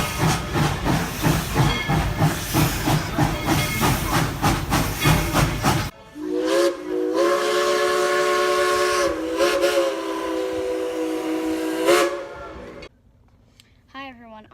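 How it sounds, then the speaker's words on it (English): Tweetsie Railroad steam locomotive No. 190 lets out a loud, sustained steam whistle blast lasting several seconds, preceded by dense roaring steam hiss, with short whistle toots and hissing trailing off at the end. "I just rode in the cab of 190 and blew the whistle."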